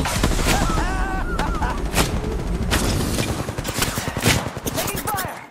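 Rapid bursts of gunfire ring out in an Apex Legends match, with sharp repeated shots and impacts throughout, dense and loud, while a character voice speaks over the action.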